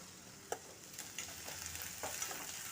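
Onions sautéing in hot oil with mustard seeds on a low-to-medium flame for a home-style chicken curry, giving a soft steady sizzle with a few light stirring scrapes and clicks, close and fairly quiet, no talking.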